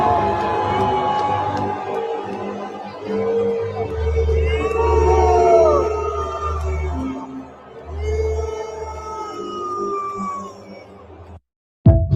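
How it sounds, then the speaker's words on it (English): A large crowd of Iranian fans in a stadium boos the anthem, a sustained loud wash of jeering voices with whistles and shouts rising over it, close and continuous until a brief cutoff at the end. "they are all booing"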